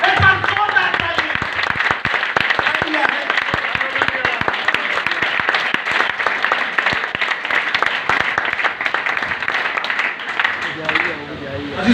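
A church congregation applauding, dense sustained clapping from many hands that holds steady for several seconds and then thins out.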